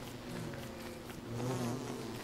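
Bees in the survival video game Don't Starve buzz nearby, a steady droning hum with a swell of louder buzzing midway.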